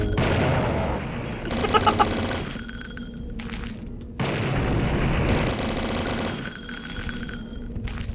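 A flare gun fires repeatedly in a horror shooter game, loud booming shots with crackling, sustained fiery hiss between blasts, two clustered volleys separated by a short pause, no talking.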